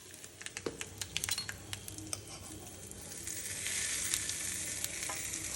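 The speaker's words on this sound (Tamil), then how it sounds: "இப்போ அதுக்கு தாளித்து கொட்ட போகிறேன்" Tempering crackles and sizzles in hot oil for peanut chutney. Quiet popping spatters come first, then they swell into a fuller, steady sizzle, close by and with no voices.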